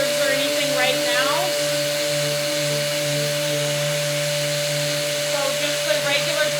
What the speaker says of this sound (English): This sander just hooks up right to your shop vac